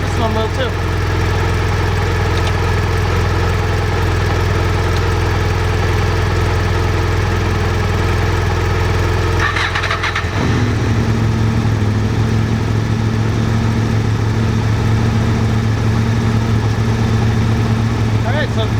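A motorcycle engine turns over and catches around the middle, then idles steadily and loudly with a low, even throb, another engine already running beneath it.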